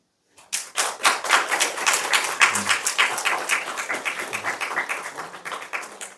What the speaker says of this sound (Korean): 우리 다시 한번 박수 합시다